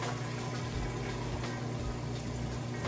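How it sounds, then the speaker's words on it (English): An Amana washing machine drains wash water between the wash and rinse cycles, giving a loud, steady rushing and gurgling pump flow that runs without a break throughout, with no voices. "Drain running nice and fast."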